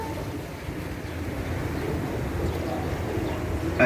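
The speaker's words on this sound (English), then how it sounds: "That noise you hear behind me is a propeller pushing the water." A boat's propeller churns water behind it in a steady, low rumbling wash, fairly loud and continuous throughout with no speech over it.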